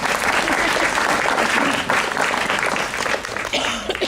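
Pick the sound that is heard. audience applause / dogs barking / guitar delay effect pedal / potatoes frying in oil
audience applause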